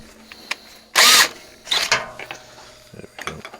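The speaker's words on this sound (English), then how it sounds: "we'll drill some holes here now." A power drill bores holes in a sandblasting box frame in two short, loud whirring bursts, followed by softer mechanical clicks and rattles.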